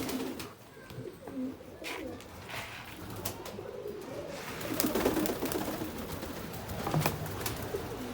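Adana pigeons cooing after being released, several soft low coos near and far against a background of rustling and outdoor noise.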